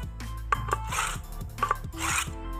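A knife is drawn back and forth through a knife sharpener, giving a series of close, gritty scraping strokes with short metallic rasps in a steady rhythm and no talking.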